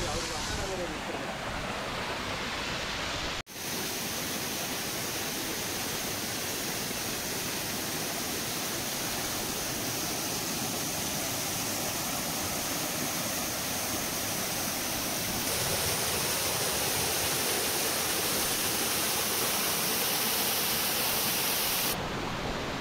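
A big forest waterfall at Yelagiri pours water in a loud, constant, broadband roar that fills the whole scene, broken only by a brief dropout early on.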